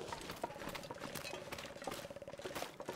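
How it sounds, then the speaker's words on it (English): Deer moving close by in The Long Dark, heard as a steady run of soft, quick rustling patters and light crunching footfalls with no talk over it. "I hear a deer."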